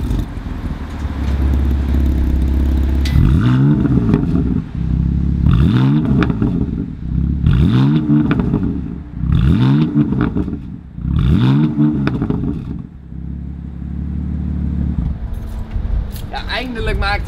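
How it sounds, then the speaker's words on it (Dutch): A BMW M4 Competition convertible with a sport exhaust idles, then revs hard five times in steady bursts, each rise ending with small pops and crackles from the exhaust, close and loud. "een leuk geluid, wat plofjes uit de uitlaat"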